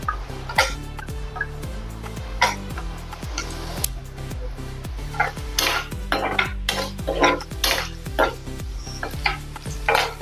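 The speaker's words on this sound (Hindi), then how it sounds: "अभी इसमें डालेंगे प्याज" Onion stirred into a spoonful of hot oil in a pan while making a potato curry, giving repeated scraping and knocking stirs with a light sizzle underneath, close and steady throughout.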